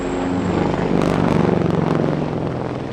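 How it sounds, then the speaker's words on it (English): A Eurocopter Tiger attack helicopter roars steadily nearby at a military airshow, its rotor chop pulsing rapidly over a broad engine drone, loud and constant throughout. "the Tiger is a relatively lightweight attack helicopter"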